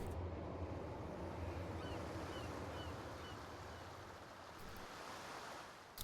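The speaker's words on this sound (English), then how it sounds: "Oh, we took a water taxi." A water taxi boat ride in Inzoi: a steady, close wash of waves and rushing water over a low engine rumble, continuous and unbroken with no talking.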